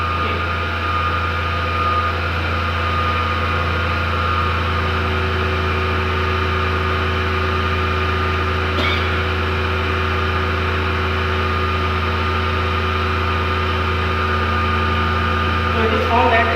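A DC series motor in a load-test lab setup runs steadily at about 1455 RPM, a constant loud hum and whine with a faint click near the end.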